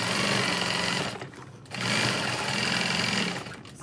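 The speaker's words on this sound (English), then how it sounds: "Sewing straight through it." A sewing machine runs straight through a 1/2 inch seam on a bucket bag, two steady, close bursts of rapid stitching with a brief pause between them and no talk.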